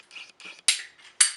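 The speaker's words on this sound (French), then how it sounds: "Je mets mon raccord dans la pince. Et je vais venir serrer." Sliding-ring PER crimping pliers tighten onto a pipe fitting, giving a series of short metallic scrapes and two sharper, louder clanks, close and with no talking.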